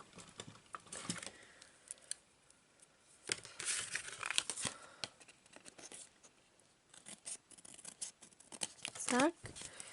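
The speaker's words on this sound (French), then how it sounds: "on va couper avec nos ciseaux." Scissors snip away excess paper while making a handmade card, with crinkling paper handling and scattered short cuts heard close up, and someone talks intermittently over the work.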